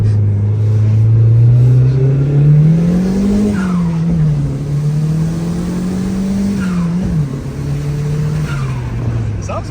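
A Nissan R34 Skyline turbo engine idles loud and close with a steady drone that rises and falls gently in pitch over several seconds, with faint chirps on top.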